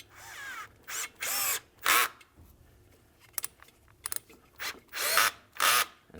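A power tool drives long T30 screws into a plastic upper radiator piece on a Porsche Macan, with short, whining bursts separated by pauses and quiet handling clicks.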